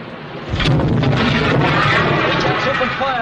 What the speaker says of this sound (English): We're opening fire, sir.